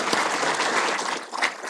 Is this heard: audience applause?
yes